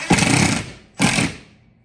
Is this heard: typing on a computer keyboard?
no